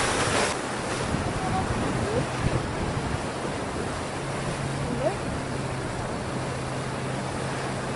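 Waves and wind at a small beach in Albufeira, Portugal, a steady broadband wash of surf with microphone wind rumble, and a brief louder gust at the very start.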